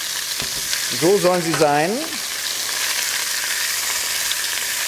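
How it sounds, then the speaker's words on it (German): Shashlik skewers browning in a pan with a loud, continuous close sizzle and frying hiss throughout; a short spoken phrase sits over it near the start. "Unsere Schaschlikspieße braten wir jetzt rundherum schön an, dass sie Farbe bekommen."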